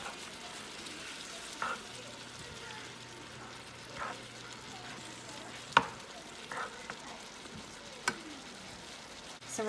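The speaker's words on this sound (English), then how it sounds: "Give it one more stir." Spiced ground beef keema stirred in a pan, with a faint constant sizzle and several distinct spoon scrapes and taps against the pan at irregular intervals, close but quiet.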